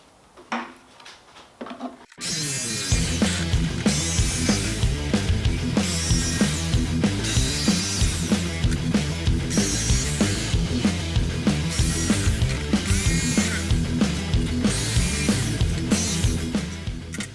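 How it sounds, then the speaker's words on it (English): Jigsaw blade cutting through a plastic case for a portable 12V lighting pack, a loud, steady rapid rasping buzz that starts after a couple of seconds of quiet handling and runs on continuously. "I'm going to have a crack with the jigsaw"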